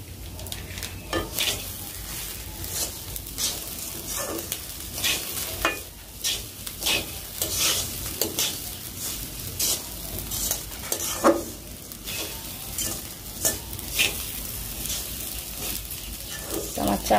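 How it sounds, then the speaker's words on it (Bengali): Rice stirred and fried crisp in a pot with a little biryani spice, a close run of repeated scraping strokes and soft sizzling, with occasional utensil knocks against the pot. "আমার চালটা কিন্তু খুব মচমচে করে ভাজা হয়ে গেছে"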